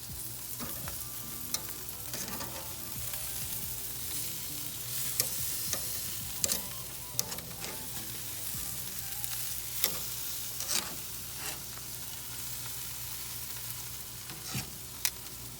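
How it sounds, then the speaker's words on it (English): Baby back ribs sizzle steadily as they sear over charcoal on a Char-Griller grill, a constant close hiss dotted with sharp crackles and pops, with no talking. "So let's go ahead and sear this meat side first."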